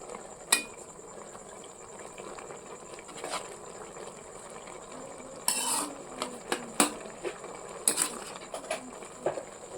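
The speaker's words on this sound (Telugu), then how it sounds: "ఈ మ్యాగీ మసాలా మ్యాగీలకు బాగా పట్టేలాగా కలుపుతున్నా." Maggi noodles with masala are stirred in a pan, a soft bubbling simmer marked by scattered metallic scrapes and clinks of the spoon, close by.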